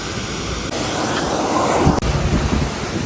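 A hose sprays a hard, hissing stream of water to wash mud off parts, loud and close to the microphone. The rushing spray runs steadily for several seconds and shifts tone as the jet moves across the surface.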